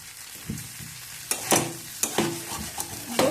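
Potatoes with spices sizzle in oil in a pan for dum aloo, with several sharp scraping stir strokes at irregular intervals over a soft frying hiss.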